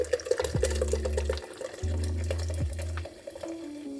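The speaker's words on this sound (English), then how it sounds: "And then I fill the rest up with just regular water." Plain tap water runs into a cup, a steady splashing pour with slight changes in pitch as the cup fills, close by and with no talk over it.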